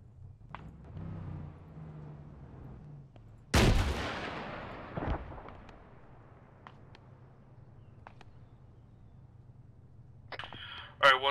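Arma 3 combat in a Soviet-Afghan conflict setting brings a sharp, loud gunshot burst, then scattered fainter distant shots and a closing crack over low background rumble.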